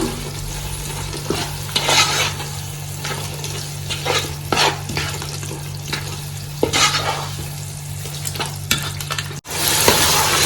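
Thick yogurt being stirred into a mutton masala for Ambur biryani, a steady scraping stir over a constant sizzle and low hum, with repeated spoon strokes and no talk.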